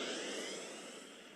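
A spaceship's warp engine spins up in the space game Second Galaxy, a steady airy jet-like roar that starts loud and eases slightly over a brief moment.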